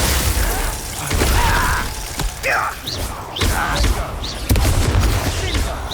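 Glacius freezing spell in the Hogwarts Legacy video game, heard amid a chaotic battle: bursts of crackling, shattering magical effects and clanks, with brief whooshing tones and shouted combat voices mixed in.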